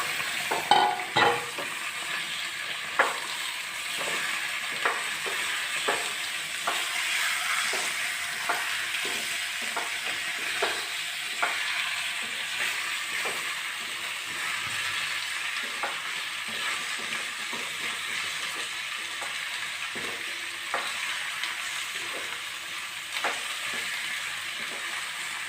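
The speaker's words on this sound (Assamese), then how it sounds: "মাংসখিনি কেৰাহীত দি দিছোঁ।" Duck meat frying in a kadai, a continuous close sizzle broken by repeated sharp scrapes and taps of a spatula stirring at irregular intervals, with no voices.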